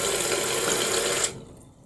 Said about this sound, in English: The toilet's flushing, it works